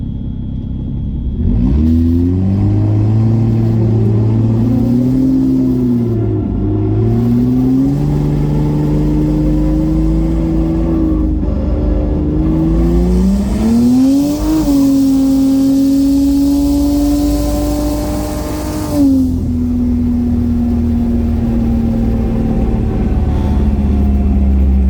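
A turbocharged SR20-powered car revs and pulls hard, engine pitch climbing steadily through long gears with a brief lift between, loud and close throughout.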